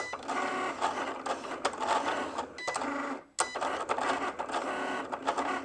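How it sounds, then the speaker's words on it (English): A Cricut cutting machine cuts out a title, giving a steady mechanical whirring and buzzing with short motor bursts and clicks as the carriage moves. One brief pause falls near the middle, and no one speaks. "I'm going to press the C for Cricut, and it's going to get to work, and it's going to go ahead and make this title for us."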